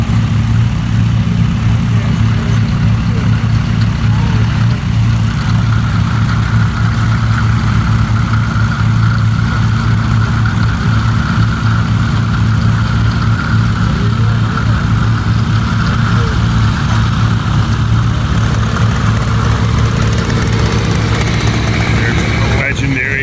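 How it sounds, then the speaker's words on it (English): A tree harvester engine drones steadily and loudly at a slow working pace, a continuous low rumble with no breaks. "the harvester is offset helps you get closer to the trunk. It's going at a good slow pace."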